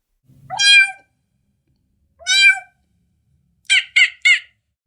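A human voice beatboxes an imitation of a cat's meow: two drawn-out meows spaced apart, then three short clipped ones in quick succession, crisp and close with silence between.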